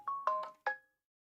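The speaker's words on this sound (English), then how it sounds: "I know you lot are hearing the fucking phone go." A mobile phone ringtone plays three short, bright chime notes in quick succession, each ringing out briefly before the clip falls silent.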